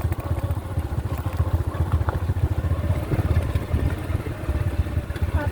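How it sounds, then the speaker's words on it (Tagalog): Motorcycle ridden on a rocky, bumpy road to church, a close, loud engine drone with rhythmic chugging pulses and rattling clatter throughout. "At kami po ay nakasakay sa motor para pumunta po sa simbahan ngayong umaga"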